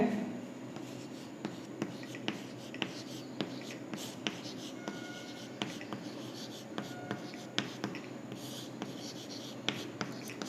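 Chalk or pen writing on a board during a physics lesson on conductors and insulators: a run of scratchy strokes with regular sharp taps, close and fairly quiet, with faint talk in the background.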